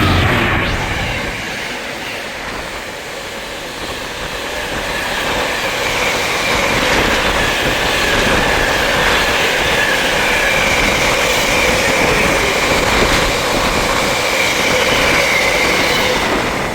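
An Avanti West Coast train roars through a station at speed, its steady rumble and rattling wheels building and holding loud throughout, with a faint high squeal.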